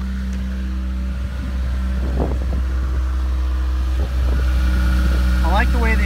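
A 1989 Toyota MR2 four-cylinder engine idling with a deep, steady exhaust note and a few short revs, close and loud, with someone talking over it.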